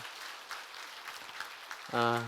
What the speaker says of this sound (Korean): 우리 박수로 또 환영하는 인사하겠습니다